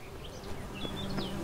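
Bees buzzing in The Witcher 3: Hearts of Stone, a short close drone of insects with wavering pitch that swells and dips over a low steady hum.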